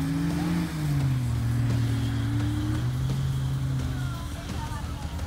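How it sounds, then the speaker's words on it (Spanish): Off-road Jeep engines run on a 4x4 dirt track at a drag-style event, a loud steady droning growl with shifting pitch as the engines rev and settle, continuous throughout. "se siente el sonido de los motores corriendo"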